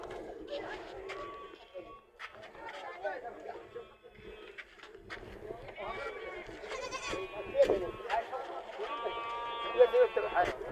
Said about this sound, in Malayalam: എല്ലാ വണ്ടിയിലും ആട് മാത്രമേ ഉള്ളൂ